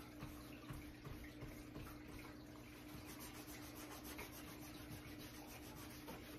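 Surface wax being rubbed on and off a surface by hand: a steady, soft, continuous rubbing hiss that stays even and fairly quiet throughout, with no speech.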